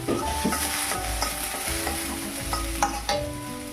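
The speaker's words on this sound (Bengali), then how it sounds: "সাবুগুলো এখন একটু ভেজে নেবে।" Sago pearls fry in ghee for a Bengali sago payesh, producing a lively sizzle punctuated by several distinct stirring scrapes from a spoon against the pan, close and clear without any voices.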